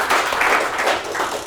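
An audience at a crypto demo showcase applauds, producing a dense, moderately loud patter of clapping that holds fairly even across the short stretch with no voices.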